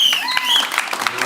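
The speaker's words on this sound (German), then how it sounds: "Euer Applaus." Audience applause after a scene in an improv theatre show, a dense wash of clapping that runs steadily throughout at a moderate, even level with no talk over it.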